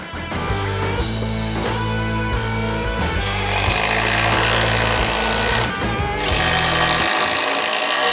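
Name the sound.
hydraulic impact driver running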